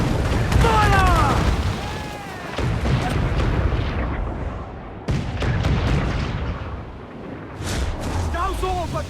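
Ship cannon fire in an Assassin's Creed Black Flag naval battle, with heavy booming blasts and rumbling over a noisy sea fight as crew voices shout throughout.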